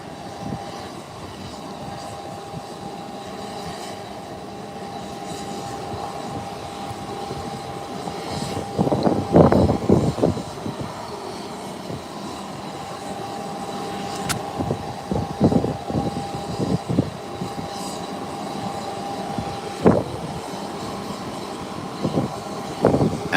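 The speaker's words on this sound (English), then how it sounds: "And here comes the landing" An airplane landing at an airport, heard as a distant steady engine hum with a droning tone that swells into louder rumbling bursts partway through, then settles back into a quieter continuous background.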